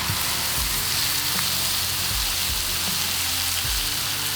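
Wagyu beef sizzles on a hot Blackstone griddle, a dense, steady frying hiss heard close up with faint scraping underneath.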